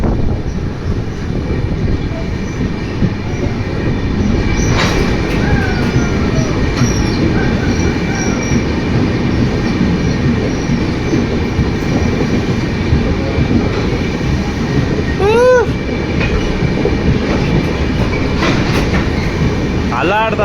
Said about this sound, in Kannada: ಅಲ್ಲಾಡ್ತದೆ ಟ್ರೈನ್ ಅಲ್ಲಾಡ್ತದೆ.